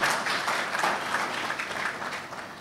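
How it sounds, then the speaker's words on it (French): A crowd at a startup fair ceremony for young entrepreneurs gives a short burst of applause for an honoree, a brief, fairly close wash of clapping fading slightly. "Je vous prie de l'applaudir."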